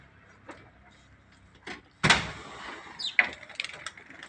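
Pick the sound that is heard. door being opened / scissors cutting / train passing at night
door being opened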